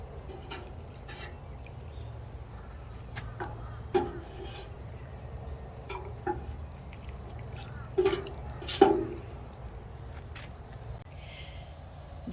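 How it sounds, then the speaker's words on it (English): A watering can pours biofungicide-mixed water onto potted basil plants, giving a soft steady trickle broken by scattered drips and small splashes over about twelve seconds. "I'm going to water with that water that has biofungicide mixed into it."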